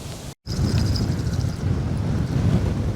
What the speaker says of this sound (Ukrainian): А ще цей бісів вітер, це капець просто.